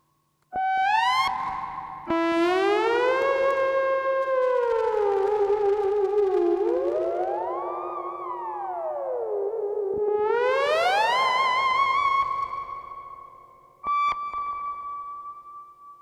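Sweeping tones from a Gakken SX-150 synthesizer glide up and down, trailing a long reverberant wash from a reverb chamber, with a final sustained note that cuts off abruptly.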